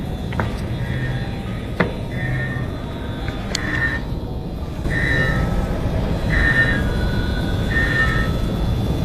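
A strange mechanical noise comes from beneath a train: a repeating tonal whine in short pulses over a steady rumble of rail ambience, with a few sharp knocks, moderately loud and with no voices.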